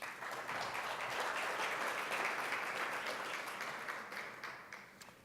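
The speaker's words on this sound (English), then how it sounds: "let's give them a round of applause" An audience at an innovation talk applauds with steady, dense clapping that keeps going for several seconds and tapers slightly toward the end.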